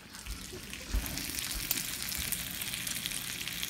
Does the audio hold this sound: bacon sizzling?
yes